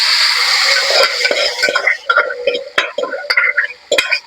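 Boiled cauliflower tipped into a pan of sambar base and stirred, with a steady close sizzle at first, then irregular scraping and sharp clinks of a spoon against the pan.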